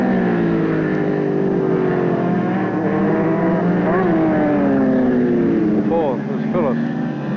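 Superbike racing motorcycles at the 1988 World Superbike round at Manfeild on a wet track, engines droning steadily with rising and falling pitch as bikes pass, under continuous race commentary.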